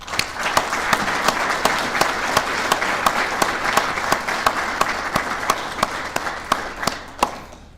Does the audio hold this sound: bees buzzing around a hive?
no